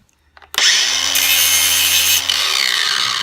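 Ryobi power tool grinding down a plastic plunger nipple for a DIY water pistol, a steady loud abrasive whir that starts abruptly and runs for about two seconds with a constant motor hum underneath.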